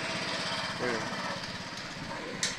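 A Honda Click 125 scooter engine running after a repair, giving a steady, buzzing idle throughout, close to the microphone, with someone speaking briefly over it.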